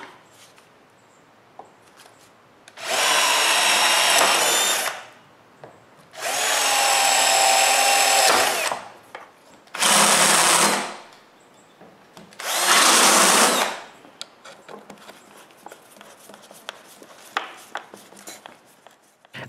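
A power drill drives screws into a wooden block, with the work held by a clamp. Four loud whirring bursts of a few seconds each are separated by short pauses, close up, with no talk over them.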